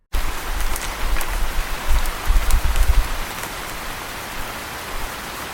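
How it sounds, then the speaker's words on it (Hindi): Heavy rain pours steadily outside, a dense continuous hiss with low rumbling patter, louder in the first three seconds, then settling to an even wash with no voices. "बाहर तेज बारिश हो रही थी।"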